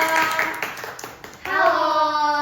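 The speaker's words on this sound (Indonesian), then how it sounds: "tepuk tangan dong" A small audience at a student presentation gives a few sparse, scattered claps before a voice starts talking over them.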